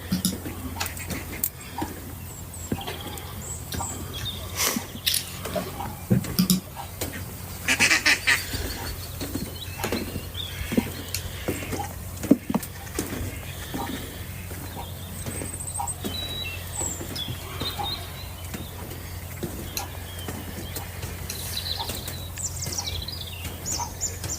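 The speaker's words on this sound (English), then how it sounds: "It's a concerto of birds chatting away to each other, to themselves" Birds calling at dusk in early spring woodland, many overlapping chirps and honking calls, goose-like, sounding at varied distances over a steady low background hum, with no one talking.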